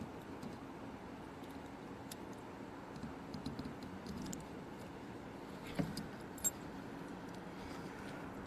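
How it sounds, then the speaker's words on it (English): Keys jangle softly with scattered small metallic clinks as they are pulled out, quiet and close against a low steady hum, with two slightly sharper clicks near the end and no talking. "as I get my keys out here"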